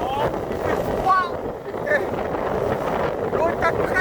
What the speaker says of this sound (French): Il y a du vent, il y a des vagues.